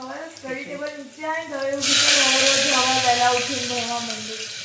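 Khichdi tempering (vaghar) sizzles loudly in hot oil with a sudden bright hiss that swells and holds steady, while a person talks over it throughout.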